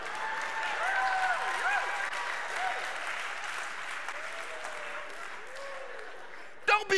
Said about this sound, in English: Don't be clapping for that.